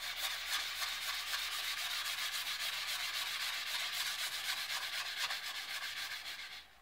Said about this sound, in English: So you just take that, go round and sand.